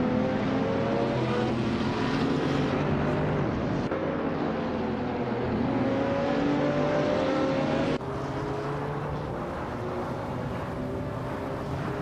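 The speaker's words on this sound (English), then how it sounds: "The race kicks off with Bot the Uncle Joe Show taking an early lead, followed closely by Bot Balsamic Vintu 83" Race cars launching at the start of a video game race, a dense pack of engines roaring and whining together at steady volume, with slight shifts in tone, no voices.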